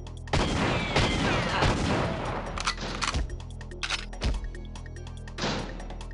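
Loud rapid gunshots from GoldenEye 007 ring out in a dense opening volley, then thin to scattered single shots and echoing booms, with no voices.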